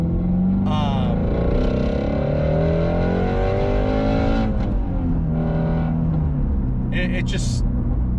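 A Shelby GT350R engine with valved exhaust rumbles and rises in pitch, with deep exhaust burbles and pops, loud and close, while people talk over it.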